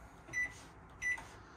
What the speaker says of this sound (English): Microwave has a clock button so you can set the clock on it.